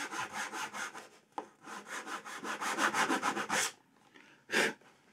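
A hand saw cuts down to the line in wood for a rebate, giving close, rhythmic back-and-forth rasping strokes in a steady series, then a short pause and one last stroke.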